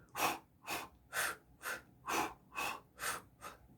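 Rhythmic two-step breathing during jogging exercise: eight even, close breaths with a steady beat, each a soft airy puff, alternating exhale and inhale pairs.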